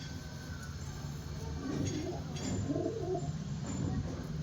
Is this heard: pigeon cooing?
yes